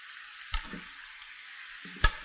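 Mixed vegetables sautéing in a pan give a steady, soft frying hiss, broken by two sharp utensil clacks about a second and a half apart, each followed by brief stirring rustles.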